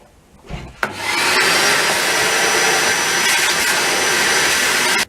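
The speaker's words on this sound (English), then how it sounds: "the Ozito vacuum cleaner, highly recommended, works very well" An Ozito vacuum cleaner switches on after a moment of quiet, then runs at a loud, steady whine and rush right up close until it cuts off abruptly at the end.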